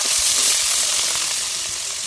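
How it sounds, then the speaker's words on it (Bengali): Spices fry and are stirred in hot oil for a village-style chicken gravy, giving a loud, continuous hiss and crackle that stays fairly even from start to finish, with no voices. "এই মশলাগুলো দিয়ে সুন্দর মতো নাড়াচাড়া করে নিতে হবে।"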